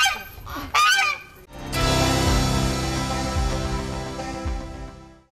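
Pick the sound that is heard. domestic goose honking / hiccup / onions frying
domestic goose honking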